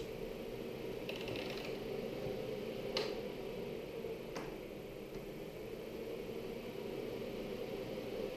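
A boot dryer fan blows a steady, even whoosh of air all the way through, with a few faint clicks from its switch settings.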